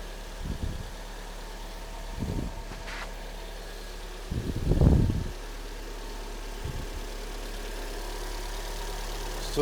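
A Kia Sportage 3 with a G4NA engine, which knocks when cold, idles with a low, steady hum, broken by a few short, louder bursts of noise.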